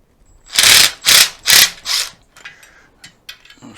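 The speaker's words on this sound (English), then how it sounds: "A 6mm Allen and a 13mm socket." A ratchet fitted with a 6mm Allen bit and a 13mm socket works on a Golden EX mobility scooter transaxle, making four loud close clicking bursts in a steady rhythm, then lighter scattered clicks.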